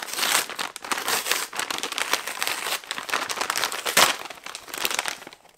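Paper and plastic crinkling and tearing as a December parcel of books is unwrapped, continuous close rustling and ripping with sharp bursts throughout.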